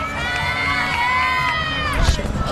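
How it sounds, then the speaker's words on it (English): Crowd at a gymnastics meet cheering and applauding, a loud continuous wash of voices and clapping with shouts rising near the end, while a commentator talks over it. "With encouraging applause."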